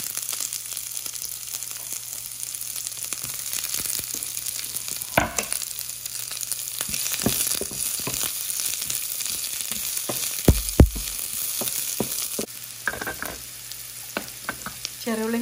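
Mustard seeds, curry leaves and shallots fry in hot coconut oil in a pan on the stove, making a loud, steady close sizzle with occasional stirring scrapes and clinks.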